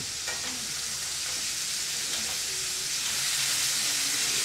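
Food searing in a hot pan at a catering cooking demo, a dense continuous sizzle and hiss that swells slightly toward the end, with faint background murmur and no clear talk.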